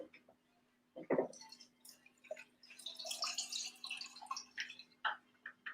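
Ginger beer cocktail poured into a glass: a short splash of liquid, followed by a longer run of faint dripping and trickling with some low, quiet talk mixed in.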